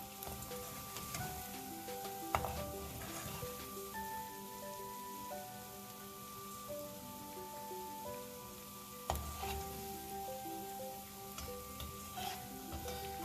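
Malai kofta balls frying in oil, an even crackling sizzle that holds steady throughout, with occasional utensil knocks, close and fairly quiet, with no one talking.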